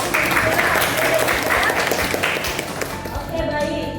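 A classroom full of students clapping steadily and loudly for several seconds, a lively burst of applause that tapers slightly toward the end.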